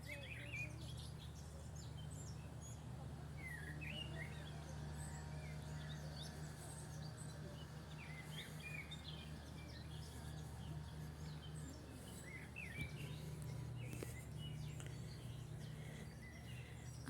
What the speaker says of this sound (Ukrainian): Слухайте, як співають пташки.